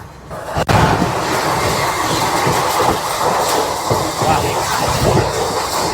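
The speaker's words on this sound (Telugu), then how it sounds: "ట్రైన్ అయితే మళ్ళీ తగ్గట్లేదు భయ్య స్పీడ్ చూడండి ఎట్లా కొడుతున్నాడు" A train on the Tirunelveli to Madurai route rushes along the tracks at high speed with a steady, loud rumble and rattling clatter, heard from close by throughout.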